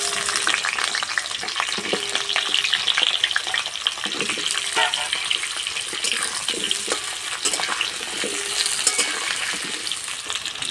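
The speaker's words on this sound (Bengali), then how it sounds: "প্রথমে আমি আলু ভেজে নেব।" New potatoes frying in white oil in a kadai wok, a continuous close sizzle and bubbling with occasional stirring clatters, steady throughout with no talking.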